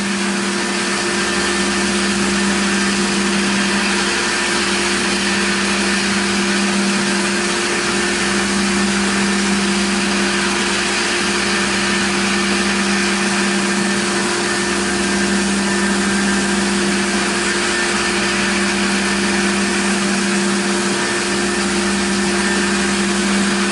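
A CNC machine mills a plate under a flood of coolant, producing a loud, unbroken, steady machining whine with constant hiss and a fixed tonal hum throughout.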